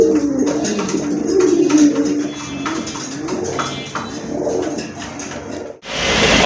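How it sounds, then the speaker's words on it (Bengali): Female pigeons, kept and sold as running pigeons, coo in repeated low throaty rolls close by, with some rustling and a brief burst of broadband noise at the end. "এটা হচ্ছে মাদি কবুতর"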